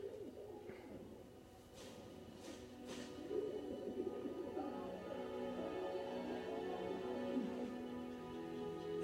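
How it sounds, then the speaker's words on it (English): A pigeon in the Battlefield 1 video game gives soft, low cooing calls. The coos run steadily over a murky backdrop of game ambience and distant rumble, and no one speaks. "Well, release the pigeon already."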